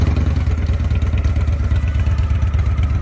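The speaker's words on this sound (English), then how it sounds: "exhaust sound of the Victory Kingpin/Kingpin 8 Ball." Deep, loud Victory Kingpin motorcycle engine idling with a throbbing, uneven exhaust rumble, steady and close throughout.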